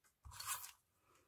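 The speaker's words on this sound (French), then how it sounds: "mon rouleau donc adhésif, je vais pouvoir fixer mon carton sur ma carte de base" Adhesive tape roller run across cardstock to fix it onto a base card for a handmade greeting card, giving one short, close crunchy scrape with a faint tap just before it, fairly quiet.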